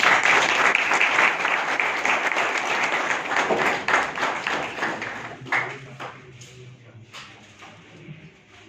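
Loud audience applause greets a selected candidate at an SBI Assistant 2020 results event. Dense clapping holds strong for about five seconds, then thins into scattered, fading claps.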